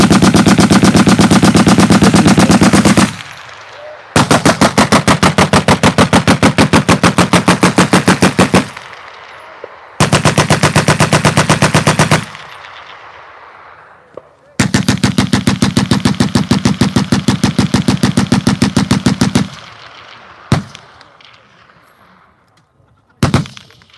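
A Vickers machine gun fires long sustained bursts at close range, loud and rapid, with several pauses between bursts and a couple of single shots near the end.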